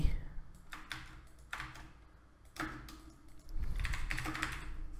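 Typing code on a computer keyboard for a PHP tutorial, irregular bursts of close clicking keystrokes with short pauses between them, growing denser near the end.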